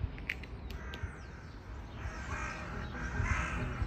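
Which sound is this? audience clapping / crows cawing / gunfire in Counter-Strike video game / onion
crows cawing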